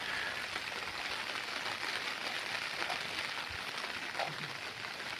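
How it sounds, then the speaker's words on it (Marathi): Rain falling near a dam during an outing, a continuous even wash of dense patter with no clear breaks, moderately faint and steady throughout. "आज दिवसभर पाऊस आहे"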